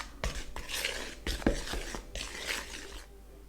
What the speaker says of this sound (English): Then you're going to stir that together.